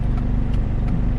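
A Honda car fitted with a D17 Mugen engine and an upgraded fuel system, driving on the highway at night, gives a steady, low engine rumble and hum throughout.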